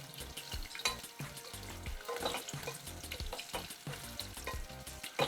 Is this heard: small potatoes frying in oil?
yes